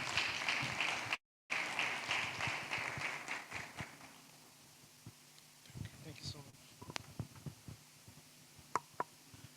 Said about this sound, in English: Please, another round of applause for Mr.